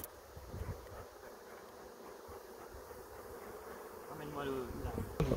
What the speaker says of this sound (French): toutes les abeilles viennent, elles se font du rappel.